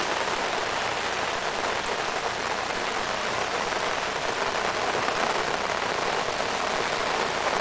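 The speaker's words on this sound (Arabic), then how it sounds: "الشتا كتصب وحنا في لابلاج" Heavy rain pours steadily at a beach, a dense, constant hiss of drops striking surfaces, loud and unbroken with no voices.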